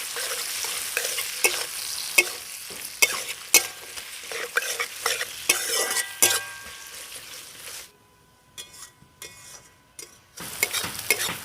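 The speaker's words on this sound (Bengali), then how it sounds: "পেঁয়াজটা খুব সুন্দরভাবে ভাজা হয়ে গেছে।" Chopped onion, capsicum and slit green chillies frying in a pan, a loud sizzle punctuated by repeated brisk stirring scrapes and knocks, fading to a quieter crackle near the end before stirring resumes.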